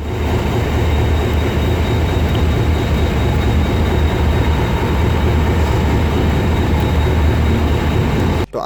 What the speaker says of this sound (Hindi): आज मेरी ट्रेन यानी कि 146 डाउन सक्खर एक्सप्रेस को लीड करेगा कराची शेड का HGMU 30 8207